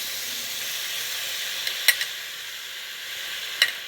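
Frozen vegetables sizzle with beef in a hot stir-fry pan, a steady bright hiss running throughout with a couple of sharp spits and pops, close and fairly quiet.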